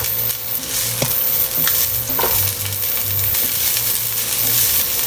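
Garlic and ginger fry in a little cooking oil, a steady close sizzle broken by occasional metallic clinks and scrapes of stirring, with no talking.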